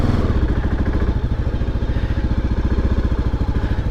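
Kawasaki KLR650 motorcycle engine chugging at low speed while pulling out of a gravel driveway, a loud, close, rhythmic thumping pulse with no one talking.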